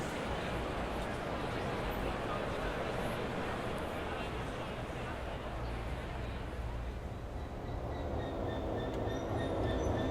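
A Class 375 electric train passes in the railway simulator game Train Sim World 4 on the line to Ramsgate, a steady rumbling rush of wheels and motors with a rising whine near the end, with talk over it.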